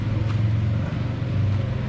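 A Mitsubishi L300 engine with its exhaust muffler removed idles close by, a steady deep throbbing rumble that holds level throughout with no revving and no voices.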